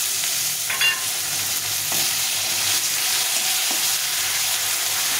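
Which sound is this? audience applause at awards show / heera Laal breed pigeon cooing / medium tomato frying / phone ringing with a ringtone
medium tomato frying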